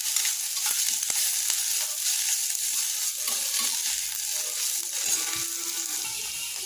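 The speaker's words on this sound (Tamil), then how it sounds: "வெங்காயம் ஓரளவுக்கு வதங்கட்டும், வெயிட் பண்ணலாம். வெங்காயத்துக்கூடயே கொஞ்சமாக கருவேப்பிலை சேர்த்துக்கிறேன்." Sliced onions and curry leaves sauté in a hot pan for a cauliflower pepper fry, giving a steady, close, continuous sizzle with a few soft stirring scrapes and no talk.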